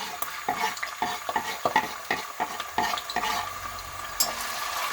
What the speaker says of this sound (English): So I'm gonna fry my shrimp.